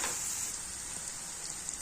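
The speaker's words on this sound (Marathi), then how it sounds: "मसाला आपल्याला एकजीव होईपर्यंत परतून घ्यायचा आहे आणि चांगलं तेल सुटेपर्यंत" Masala for bharli vangi sizzles in hot oil, a soft, even crackling hiss that stays steady throughout, with no talk over it.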